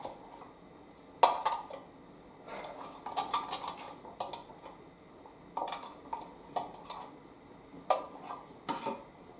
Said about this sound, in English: Stir in the yeast.